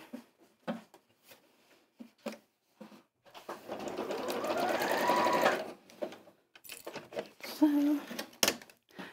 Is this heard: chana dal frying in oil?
no